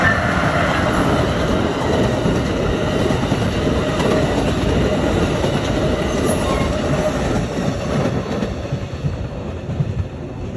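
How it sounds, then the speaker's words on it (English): A new Amtrak train passes a railroad crossing in Mukilteo, Washington, a loud, close, continuous roar of engine and rushing cars with wheel clatter and faint squeal, gradually easing toward the end. "That was the new Amtrak."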